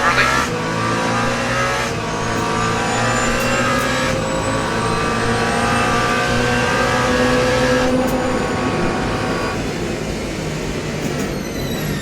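A race car in Le Mans Ultimate coasts to save fuel, its engine drone falling and easing in long, loud sweeps with faint tire noise, heard up close.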